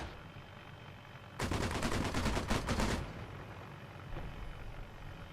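A short burst of rapid automatic gunfire in the video game Arma 3 lasts about a second and a half. Quieter ambient noise comes before and after it.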